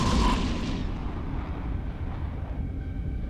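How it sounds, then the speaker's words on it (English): Missile volleys fire in the EVE Echoes space game during a PvP battle, a loud booming launch at the start trailing off into a long, low rumbling roar. "So, couple more missile volleys."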